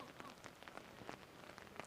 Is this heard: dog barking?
no